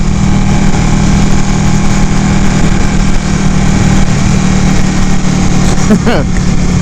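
Loud continuous engine drone from a Ducati 899 Panigale while riding, a dense steady roar mixed with wind buffeting, and a rider talking over it.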